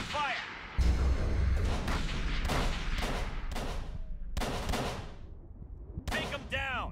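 Gunfire in the horror video game Call of Cthulhu: Dark Corners of the Earth, a string of loud, sharp bursts and thuds during a rooftop firefight, mixed with shouted voices and battle noise.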